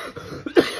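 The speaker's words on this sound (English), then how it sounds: "can't get rid of this cough." An adult's lingering cough, a couple of short rough bursts close to the mic, with no other sound around it.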